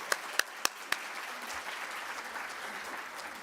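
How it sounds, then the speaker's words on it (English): A few sharp, distinct claps open, then broader audience applause for the panelists at a women veterans summit continues steadily, moderately loud and without talk. "Can we get one more round of applause for our panelists"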